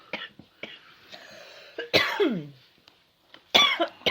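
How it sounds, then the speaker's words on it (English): Several harsh, raspy coughs come in bursts close by, with rough throat clearing between them and brief quiet pauses. "Don't mind my excessive stupid coughing."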